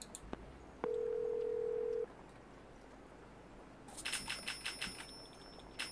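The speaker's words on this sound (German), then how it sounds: "Kann ich so voll die coolen Nummern wählen." Someone dials a phone number in the video game Boiling Point: Road to Hell: a steady dial tone holds for about a second, then a quick run of crisp, evenly spaced keypad beeps follows, with no voices.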